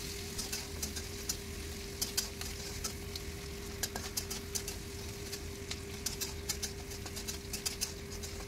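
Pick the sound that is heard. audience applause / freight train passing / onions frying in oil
onions frying in oil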